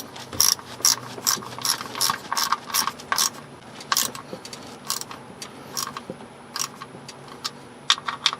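A ratchet snugs down small 10 mm bolts on a BMW E46 oil level sensor, a quick series of close, crisp clicking bursts in uneven runs, loud over a quiet background with no talking.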